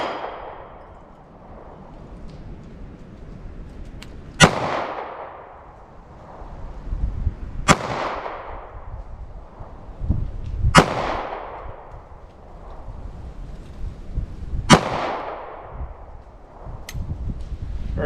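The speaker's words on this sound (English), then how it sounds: "All right, 25 yards. We have our Diamondback DB9 first." A Diamondback DB9 9mm pistol fires at an outdoor range, four sharp, loud gunshots spaced a few seconds apart, each with a decaying echo and quieter background noise between them.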